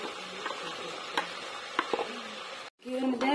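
Gram flour batter fries in hot ghee while being stirred: a continuous near sizzle broken by sharp spatula scrapes and taps, a brief silent break, then the sizzle returns.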